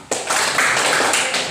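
A class of school students clap the Tepuk PPK rhythmic classroom clap together, a loud, dense burst of many hands that starts abruptly and carries on steadily, close by.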